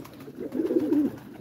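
Pet pigeons kept on a home terrace coo softly at close range in a short, low, rolling burst, with no voices.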